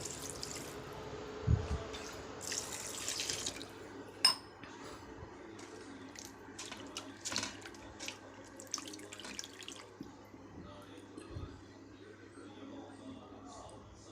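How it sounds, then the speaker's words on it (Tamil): Water pours and splashes in a bowl while mutton liver is washed with turmeric powder, with soft clinks of a utensil and occasional thuds, fairly close and moderate throughout. "தண்ணியை ஊற்றி நல்லா வாஷ் பண்ணிக்கோங்க."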